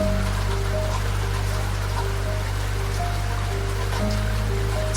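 Steady rain patters against a train window on a rainy night aboard the Coastal Pacific Express, a dense continuous hiss of drops over a low, constant rumble from the moving carriage.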